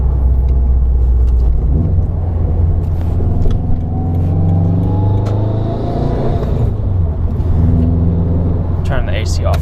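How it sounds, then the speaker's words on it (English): Subaru WRX hatchback running on E85, its engine and exhaust droning loud and steady with a rising intake spool while cruising on a crowded freeway, in-cabin perspective. "instead of just a spool of the intake, I have all those noises plus the exhaust, which is amazing"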